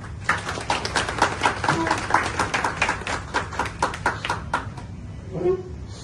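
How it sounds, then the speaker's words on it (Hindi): Live clapping from an audience as musicians are welcomed onto a stage, a brisk run of sharp claps, fairly close and rhythmic, thinning out toward the end where a voice briefly sounds. "तालियां हो जाए।"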